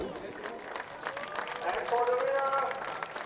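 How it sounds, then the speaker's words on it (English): Crowd applause for the top three truck drivers on the podium at the FIA European Truck Racing Championship round in Most, a steady spatter of clapping running under a commentator's voice throughout. "Congratulations for the winner and applause for the top three"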